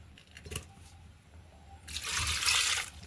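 Water is poured into a drinking glass in a home kitchen, a soft trickle that swells into a steady, fairly close pour over the last second or so, with quiet household background and no talk.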